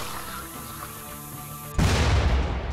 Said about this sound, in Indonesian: Aduh, meledak turret kita satu.